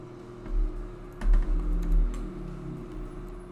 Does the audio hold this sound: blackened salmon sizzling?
no